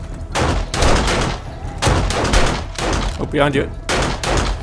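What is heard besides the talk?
gunfire in video game 7 Days to Die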